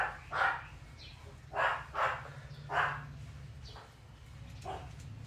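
A few dogs barking in short bursts at a moderate distance, five or six separate barks spaced irregularly against a low background hum.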